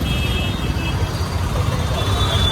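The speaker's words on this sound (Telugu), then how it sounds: "ఫుల్ ట్రాఫిక్ ఉంది," Heavy road traffic streams through Amritsar, a dense continuous roar of engines with a few faint horn toots, while a voice talks over it.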